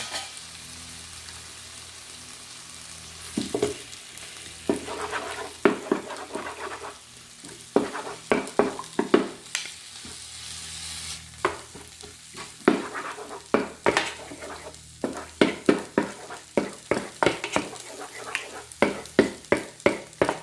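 Fried rice with soy sauce stirred in a frying pan: a steady sizzle with repeated scraping and clinking strokes of the utensil against the pan, close and rhythmic, with no talking.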